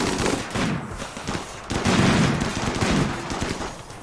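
Big gun turrets in RimWorld fire rapid, loud bursts of gunfire, a dense rattling barrage that carries on without pause across the whole stretch.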